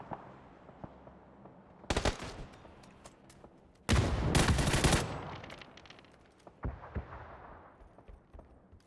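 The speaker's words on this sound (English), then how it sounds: "Here come the extra guns. So much firepower zoning into this location right now," Heavy gunfire in PUBG: scattered single shots build into loud, dense automatic bursts with one long sustained barrage, then trail off into sporadic cracks.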